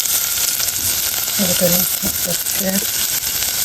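Garlic browning in oil in a pan during home cooking for Eid, giving a loud, continuous bright sizzle and hiss, with someone talking briefly over it midway.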